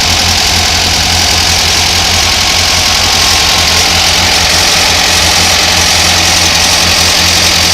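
A Volkswagen 2-liter engine runs steadily at idle, a constant loud mechanical drone with a deep low throb and broad hiss, unbroken and close throughout.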